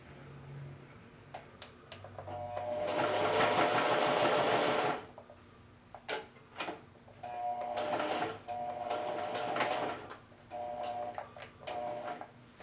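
A sewing machine stitches a pocket in two long, loud, steady whirring runs, separated by short bursts and a quieter pause with light mechanical clicks, close up and with no talking.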